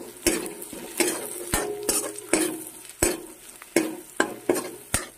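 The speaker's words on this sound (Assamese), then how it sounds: "ইয়াৰ মাছৰ মাথাকেইটা যিহেতু ফ্ৰাই হৈ আছে" Fish heads fry with garlic and spices in a pan, a steady sizzle broken by repeated scraping and clinking stirs of a utensil against the metal.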